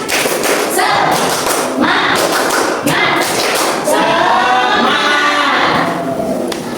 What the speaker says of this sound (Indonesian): tepuk semangat terlebih dahulu ya